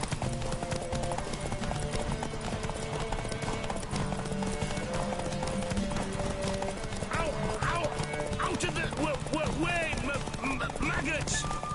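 Horse hooves clip-clop at a steady gallop in The Witcher 3, with occasional whinnies and in-game music and voices running over the hoofbeats throughout.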